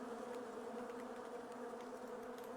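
Steady, dense buzzing of a bee swarm in the video game Island Beekeeper, continuous and fairly loud throughout with faint clicks on top, no talking.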